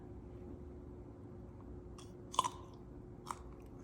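Faint background hum with a few sharp crunchy bites and chewing crackles on a baked cranberry snowball cookie, one clearer crunch midway and another softer one shortly after; no talking.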